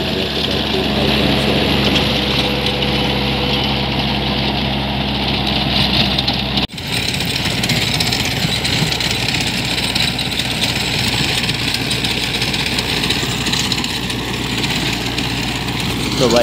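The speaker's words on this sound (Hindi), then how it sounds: "पुराना ट्रैक्टर आप देख सको, वो पुराना ट्रैक्टर है भाई, 92 मॉडल है" An old 1992-model tractor engine idles steadily with a low, continuous rumble, close and loud throughout, briefly dipping once before settling back into the same even chug.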